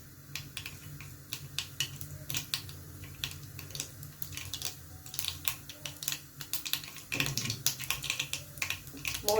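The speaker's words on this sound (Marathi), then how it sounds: "मोहरी तडतडली आहे" Mustard and cumin seeds crackling in hot oil for a quick dry okra dish: rapid, irregular sharp pops and ticks scattered over a low background, growing denser toward the end, no talking.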